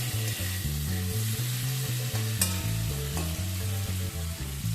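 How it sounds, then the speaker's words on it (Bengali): Prawns hiss and sizzle steadily in hot mustard oil in a pan, the frying held under loud, stepped background music throughout. "তেল খুব ভালো মতো গরম হয়ে গেলে এবার চিংড়িগুলো আমি তেলের মধ্যে দিয়ে দিচ্ছি।"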